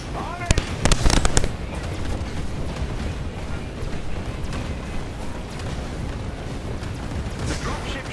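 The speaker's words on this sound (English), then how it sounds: "Their artillery's targeting you." Artillery blasts in the Marvel's Avengers video game, a burst of sharp booming explosions and crackling debris early on, followed by a continuous rumbling battle din, with voices talking over the action.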